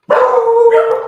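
A single dog bark indoors, one loud, close, slightly drawn-out woof lasting about a second, with a tonal, howl-like quality and nothing else around it.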